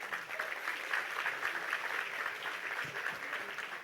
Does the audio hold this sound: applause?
yes